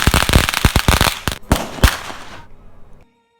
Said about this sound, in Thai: ส่วนประทัดก็นำมาจุดด้านล่างค่ะ